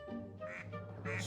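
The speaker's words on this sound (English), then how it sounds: "What will the ducks reveal?" Cartoon ducks quack in the puzzle video game Blue Toad Murder Files, giving a few short, nasal squawks over a soft musical background. The quacks are fairly quiet and grow slightly louder toward the end.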